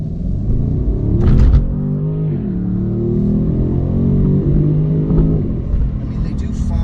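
A 2019 BMW M850i Convertible's engine and exhaust drone steadily while driving, with a rumbling tone that rises and falls as revs change, loud and close throughout.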